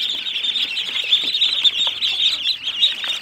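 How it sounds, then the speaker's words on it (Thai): A crowd of ducklings on a duck farm peeps in a dense, continuous high-pitched chorus, close by and steady throughout, with no talking. "คือลูกเป็ดเนี่ย"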